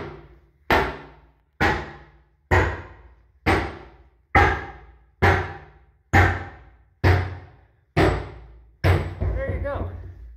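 Sledgehammer driving an old firewood splitting wedge under nailed-down subfloor underlayment, giving nine loud, evenly spaced heavy thuds about a second apart, close by, ending in a longer rumbling crack as the board gives way.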